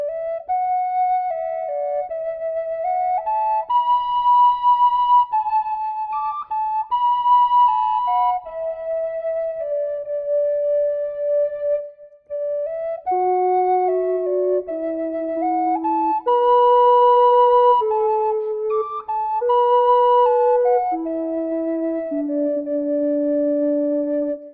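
Tin whistle melody layered with a second tin whistle holding lower bass notes underneath as harmony, a continuous flowing tune of stepwise notes played close and clear without talk.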